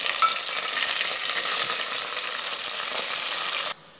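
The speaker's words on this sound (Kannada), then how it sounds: "ಈಗ ಸಾಸಿವೆ, ಬೆಳ್ಳುಳ್ಳಿ ಹಾಕುವ, ಸಾಸಿವೆ ಸಿಡಿತ ಉಂಟು ಪಟಪಟ ಅಂತ" Mustard seeds and garlic spluttering in hot oil as a tempering for sambar, a dense, steady crackle with close, continuous popping for nearly four seconds, then stopping abruptly.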